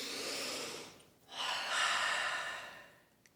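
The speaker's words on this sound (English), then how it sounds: "A breath. Taking a breath." A single deliberate breath taken by a person, a soft airy inhale that swells and then eases off, close and unaccompanied by any talk.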